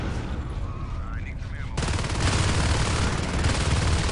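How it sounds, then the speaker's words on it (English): Video game gunfire from Marines, dense rapid automatic bursts merging into a continuous loud rattle that grows heavier midway, with a faint tone and game sounds underneath. "look at Dusk, he could somehow escape those Marines firing."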